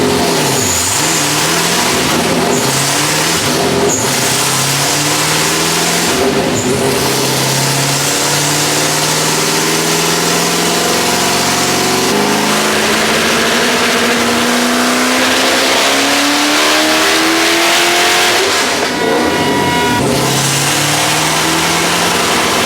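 Naturally aspirated drag race car engine revs hard and loud, pitch climbing in repeated sweeps through the gears as it accelerates, with no talking over it.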